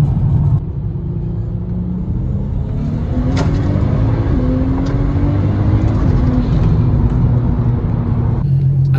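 A Nissan Skyline R32 with a freshly repaired, previously warped exhaust manifold drives along, its engine a steady loud rumble with rising tonal notes as it gathers speed, close and continuous throughout.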